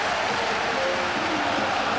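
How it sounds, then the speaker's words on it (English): A stadium crowd at a 2005 UEFA Cup football match between Sporting Lisbon and Middlesbrough keeps up a steady, distant roar of cheering throughout, broad and unbroken. "Certain irony in the cheers from the crowd."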